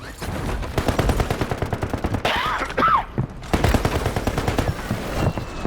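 Rapid bursts of gunfire in Call of Duty Warzone Resurgence crackle almost continuously, with a brief lull midway, loud and close.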